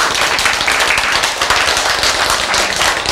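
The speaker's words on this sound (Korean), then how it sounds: "박수!" A live audience bursts into dense, sustained applause at a Korean lecture, loud and close, with rapid overlapping claps filling the whole stretch without a break.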